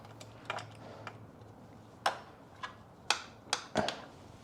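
Ratcheting wrench removing bolts during an oil-leak repair on a Mitsubishi Evo: several short bursts of quick clicking with pauses between them, close and fairly quiet, with no talk.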